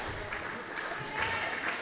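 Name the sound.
audience applause at a handball match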